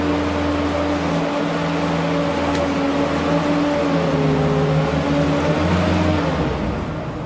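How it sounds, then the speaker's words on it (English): A boom lift drives one wheel onto a six-inch rise during a pre-use check, its engine a loud, steady drone with a faint pitch shift, running throughout without talk. "drive one wheel onto a 6-inch rise"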